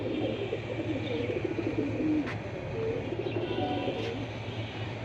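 Pigeons kept for sale coo in soft repeated low calls against a steady background hum, with a few faint chirps scattered through.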